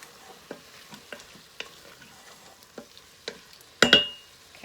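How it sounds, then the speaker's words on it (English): A spoon stirring a red bean mixture with Cajun Creole seasoning in a pot, soft irregular scrapes and taps over a faint simmer, ending in a louder clatter and brief hiss. "Mix that all together."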